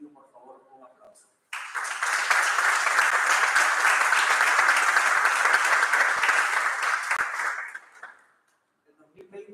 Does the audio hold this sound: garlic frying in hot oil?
no